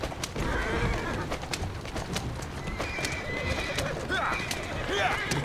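A horse-drawn carriage rolls through a video game set in Victorian London, Assassin's Creed Syndicate, with steady clip-clopping hooves, horse whinnies and a dense street-like background, loud and continuous throughout.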